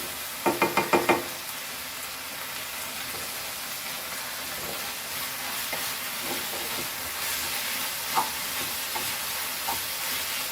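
Vegetable fried rice frying in a pan over a high flame, a steady broadband sizzle throughout with a quick burst of sharp spatula knocks near the start and scattered scrapes and clinks later, close and fairly loud.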